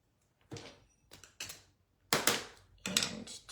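Scissors cutting two ear shapes out of air dry foam clay, heard as about five separate close snipping and crunching strokes with short quiet gaps between them, no talking.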